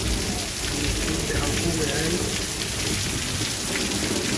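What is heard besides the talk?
heavy rainstorm in Windsor, Ontario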